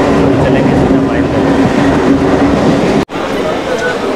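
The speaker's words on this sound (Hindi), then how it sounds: "ये है भाई लोकल ट्रेन का सफ़र मुंबई का" Rumbling interior of a moving Mumbai local train on the way into Andheri, a steady loud rail drone with a brief dropout near the end, under talk.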